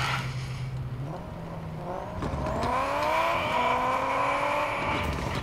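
Car engine in the Car Parking Multiplayer video game, idling then revving up as it accelerates through rising gear tones, moderately loud with no talking.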